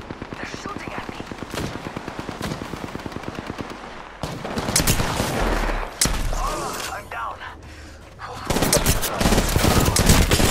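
Gunfire in Apex Legends: rapid automatic bursts with dense, evenly spaced shots, broken by short gaps and heavier single impacts, loud and close throughout.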